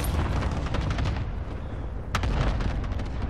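Rapid in-game gunfire from shooting at an enemy in a first-person shooter, dense bursts of shots running throughout with a sharp louder crack near the end, loud and close.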